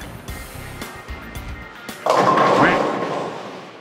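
A solid bowling ball, an entry-level model, is released and rolls down the lane, starting with a heavy thump followed by a loud rumbling roll that gradually fades, after some nearby handling noise.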